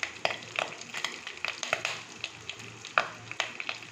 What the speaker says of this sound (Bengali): মাছ ভাজার তেলেই আমি একটু কালো জিরে দিয়ে দিচ্ছি